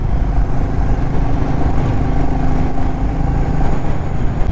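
A Royal Enfield Meteor 350 motorcycle rides through traffic with a loud, steady low engine drone and road noise, no talking over it.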